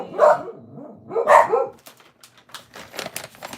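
A dog gives two loud, close barks spaced about a second apart, followed by softer scratchy shuffling and a brief spoken word.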